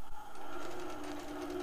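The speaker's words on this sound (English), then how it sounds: "it will start stitching at that point." An embroidery sewing machine stitches a pattern with a faint, steady mechanical hum and a quick, even pulse of needle strokes, heard alone for a short stretch.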